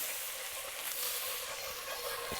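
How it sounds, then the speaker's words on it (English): Butter and flour cook into a roux in a pan, giving a soft steady sizzle and faint crackle with occasional stirring scrapes, low and continuous without talk. "Once that butter has begun to melt, go ahead and add your flour and just mix that to combine."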